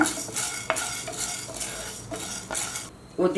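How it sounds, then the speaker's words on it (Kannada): Urad dal, chana dal and coriander seeds dry-roast in a pan, stirred with a spoon: a steady dry rustle and faint sizzle, with rhythmic scraping strokes and a light metallic clink near the end. "ಒಂದು ಟೀ ಸ್ಪೂನಷ್ಟು ಕಡಲೆಬೇಳೆ ಅರ್ಧ ಟೀ ಸ್ಪೂನಷ್ಟು ಧನಿಯಾ ಕೆಂಪಿಗೆ ಹುರ್ಕೊಳ್ಳೋಣ"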